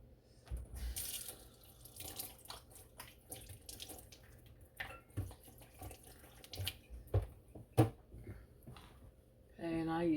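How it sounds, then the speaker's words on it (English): Kitchen tap running while hands are washed, a close splashing stream with clatters and handling sounds, and a voice speaking over it at times. "I'm gonna wash my hands."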